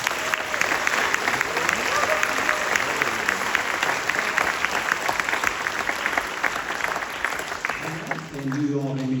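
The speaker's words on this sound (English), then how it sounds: "Let's give them a round of applause." Sustained applause from a school band concert audience fills the room for about eight seconds, dense and even, before fading as a voice begins speaking at the end.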